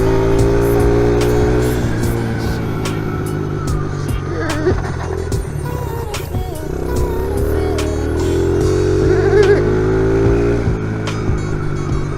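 A Honda XR70 pit bike engine revs and holds a buzzing drone, rising and falling through the throttle, loud and near, with occasional short clicks and knocks over the motor.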